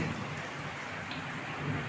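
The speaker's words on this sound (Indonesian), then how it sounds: "Hujan lebat sekali ini." Heavy rain pours onto the tiled roof of a leaking house during a thunderstorm, a dense, continuous hiss with low rumbling beneath, steady and enveloping throughout, with no voices.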